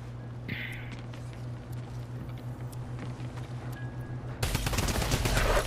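Drum gun firing in Fortnite, a rapid burst of gunfire that erupts near the end after quieter game sounds, loud and continuous, with faint talk earlier.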